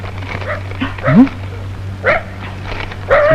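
A dog, presented as a police tracking dog, barks and yips in a few short bursts over a steady low hum, with some voice-like sounds mixed in.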